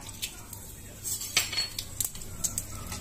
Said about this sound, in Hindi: अब सबसे पहले हम इसमें तेज पत्र डालेंगे और ये खड़ा गरम मसाला